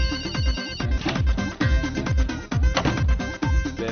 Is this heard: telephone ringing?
yes